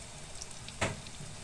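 Vegetable lumpia fry in hot oil with a soft, steady sizzle and crackle, quiet and close, with one brief louder pop partway through.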